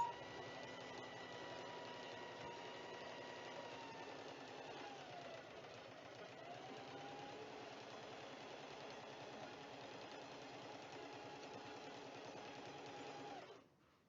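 A sewing machine runs a steady straight stitch along the edges of a handmade moss bag, a continuous close mechanical whir holding even for about thirteen seconds before stopping abruptly.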